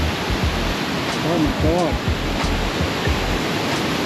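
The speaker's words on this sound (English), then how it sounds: "This is the closest walk to one of the falls." A waterfall on a walking trail between Haliday Bay and Airlie Beach, Queensland, pours with a loud, constant rushing roar close by, while a person briefly exclaims over it.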